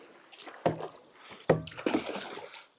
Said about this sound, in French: Hélène, Beauté Active, Théoura et Sylvain se lancent en premier dans la course en barque.